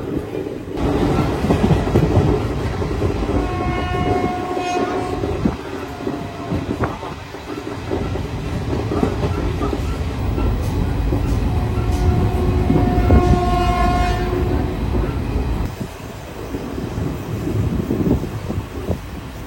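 Madurai Intercity train rolling toward Coimbatore Junction, a loud continuous rumble of wheels and carriages heard from onboard, with rhythmic clacking and two brief tonal horn-like blasts partway through.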